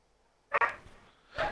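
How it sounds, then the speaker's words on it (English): A household dog lets out two short barks about a second apart, with quiet background between them. "courtesy of my dog barking"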